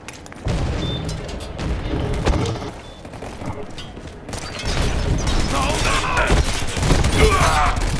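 Grenade blast in the first-person shooter Ballistic Overkill: a dense, loud crackle of explosions and gunfire with booming impacts, continuous and close, with voices faintly beneath.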